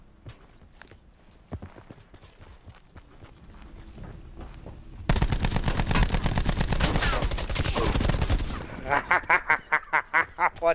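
Loud, dense bursts of rapid gunfire from an Apex Legends match break out midway and run for several seconds, ending in a string of sharp evenly spaced shots after scattered quieter clicks and footsteps.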